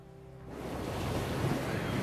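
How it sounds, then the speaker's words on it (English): Strong wind whips whitecaps across Little Narragansett Bay at Watch Hill, Rhode Island, a steady broad roar of surf and gusts that swells up after a quieter start. "Outside, the wind is whipping whitecaps across Little Narragansett Bay."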